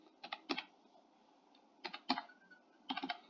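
Quick bursts of keystrokes on a computer keyboard, three short clusters of crisp clicks separated by pauses, close and fairly quiet in a still room.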